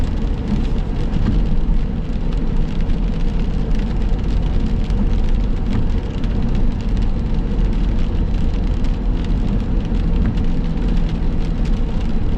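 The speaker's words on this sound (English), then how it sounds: "I don't know how long this rain's supposed to last as far as the season." Rain falls steadily during a drive in McCook, Nebraska. The loud, even hiss of drops on the car runs under the road rumble with no break.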